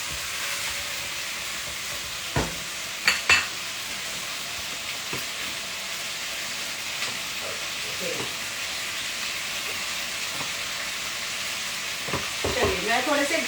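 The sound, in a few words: mutton chops frying and being stirred in a pan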